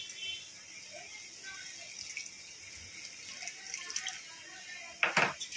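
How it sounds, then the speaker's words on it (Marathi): Tamarind water is poured into gram flour in a home kitchen, a brief splashing pour near the end over a faint steady background hiss. "तर आता ह्याच्यामध्ये मी टाकणार आहे हे चिंचेचं पाणी."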